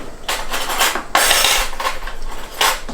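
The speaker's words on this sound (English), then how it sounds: "Trying to get a fork." Metal cutlery clattering and jangling as someone rummages through a kitchen drawer for a fork, repeated bursts of close, bright rattling.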